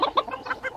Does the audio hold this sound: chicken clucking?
yes